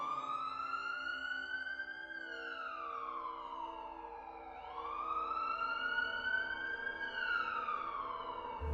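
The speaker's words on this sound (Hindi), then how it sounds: "वो बंदा शॉन को बेहोशी की हालत में ही एम्बुलेंस के अंदर डाल देता है।" A wailing siren rises and falls in long, slow sweeps, steady and clear with no voices over it.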